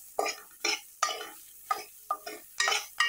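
Grated coconut sautéed with tamarind for inji theeyal, stirred in a pan: a series of sharp, close scraping strokes of a spoon against the pan, about eight in a loose rhythm, alone with no talking.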